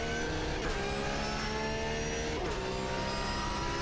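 A race car engine in the sim racing game Automobilista 2 drones steadily and loudly throughout, with rising and falling whine as the revs shift, continuous and without talk.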